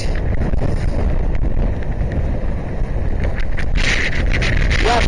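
Strong wind by the Black Sea at Eforie Sud roars loudly and continuously against the microphone, with a constant low rumble and no clear pauses.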